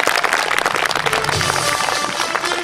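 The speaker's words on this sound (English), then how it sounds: "Please let's have a big round of applause for the most energetic men in Chalke Valley" An audience applauds performers at a live history show, a dense burst of clapping from a crowd, loud and close, filling the short moment alone.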